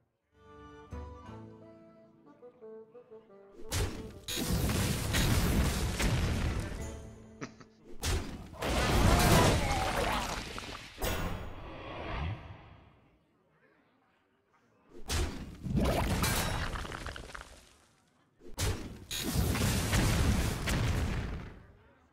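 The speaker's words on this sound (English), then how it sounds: "Yep, so Dr. Booms annihilated each other" Dr. Boom's bombs explode in the card game Hearthstone: a run of loud, booming blasts and crashing bursts in several long waves, separated by brief quiet gaps, with faint game tones at the start.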